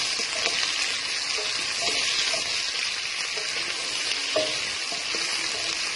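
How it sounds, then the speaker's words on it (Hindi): Onions sauté in half a cup of oil inside a kadai, a loud continuous sizzle broken by occasional stirring clinks and scrapes, with no one talking. "बहुत ही अच्छे तरीके से लाइट सा हम इसको सौते कर लेते हैं।"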